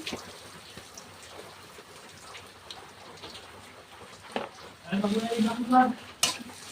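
Drumstick (stalk vegetable) fry being stirred in a pan with turmeric and salt, a soft scraping and faint sizzle that swells into louder stirring and frying near the end, with a sharp clatter at the close.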